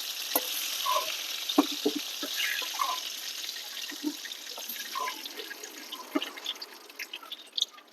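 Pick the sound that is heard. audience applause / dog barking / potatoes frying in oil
potatoes frying in oil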